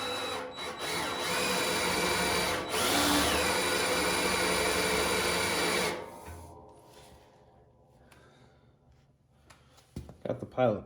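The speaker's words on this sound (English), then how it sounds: "So I'm going to take the extension off now and drill these without the extension in the way." A power drill bores a pilot hole in the metal of a John Deere 54-inch Quick Hitch blade extension. Close, loud, steady whirring grind runs for about six seconds, then cuts off, leaving faint handling clatter.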